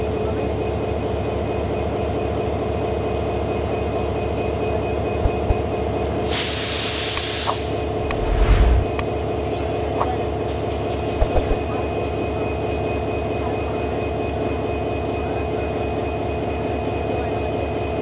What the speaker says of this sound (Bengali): তারা ট্রেনের বগি থেকে মূলত ট্রেনের যে ইঞ্জিন সেটাকে আলাদা করছে